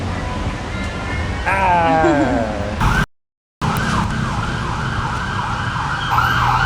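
Loud wailing sirens rise and fall over road noise, cutting out abruptly and resuming with a rapid yelping pattern.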